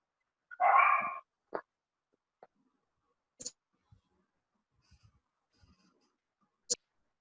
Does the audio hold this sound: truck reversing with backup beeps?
no